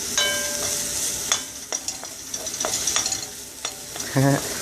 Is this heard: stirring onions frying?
yes